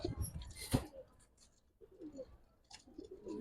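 Giribaz pigeons coo in a loft, with soft, low repeated coos close by, a loud wing flutter or bird call early on, and scattered faint chirps in the background.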